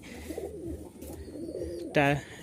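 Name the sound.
giribaz pigeons cooing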